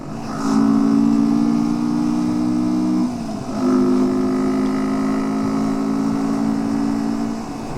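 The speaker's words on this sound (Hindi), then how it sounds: "देखें जी कितना खुला रोड है माशाल्लाह, और बड़े मज़े से बाइक चलती है।" A motorbike rides along an open mountain road between Muzaffarabad and Leepa Valley, its engine a steady, close droning hum that dips briefly as the throttle eases, then picks back up and holds.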